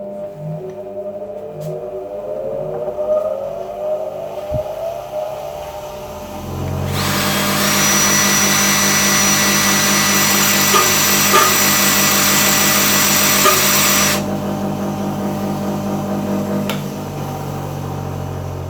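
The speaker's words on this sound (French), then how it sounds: "Je vais caler mon tungstène dans le mandrin de ma visseuse et venir l'affûter sur ma pierre de touret." A tungsten TIG welding electrode held in a cordless drill's chuck and spun against a bench grinder stone: a loud, steady high grinding whine that starts partway through and runs for several seconds over a motor hum, then stops.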